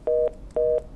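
Two short, identical electronic beeps sound on a telephone line after a caller drops off a radio call-in show. They are clean and evenly spaced, with a brief gap between them.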